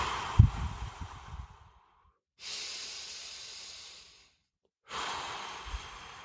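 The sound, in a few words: long slow breaths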